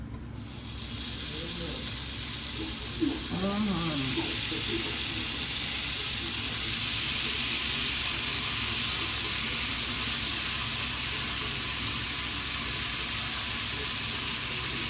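Applewood smoked bacon sizzles in a pan with a steady, bright frying hiss that runs throughout, while a voice briefly speaks partway through.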